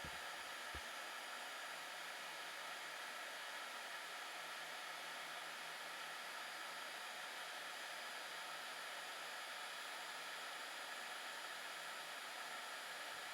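A heat gun blows over an isolated test area of a graphene-infused coating, pushing it past 250 degrees. A steady, even hiss of blowing air holds unbroken from start to end, with no voices.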